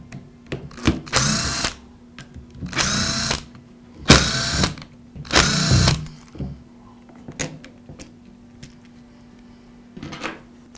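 A cordless power drill whirs in four separate bursts of about a second each as it backs out the four screws holding the rear cover of a Milwaukee cordless drill, with small clicks and handling noises between bursts.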